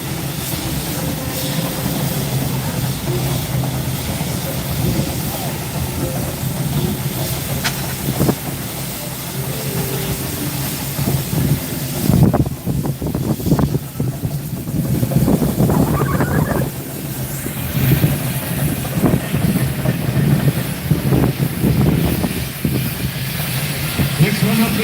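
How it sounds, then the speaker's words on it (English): A Garrett Showman steam traction engine rumbles and clanks past in a steam rally parade, with mechanical knocking and hiss amid crowd noise and a public-address voice talking over it. "This one is the Garrett Showman engine."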